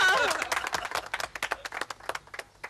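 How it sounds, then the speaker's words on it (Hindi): Audience applause at a comedy show, a burst of clapping that starts dense and then thins into separate, fading claps over a couple of seconds. "तालियां"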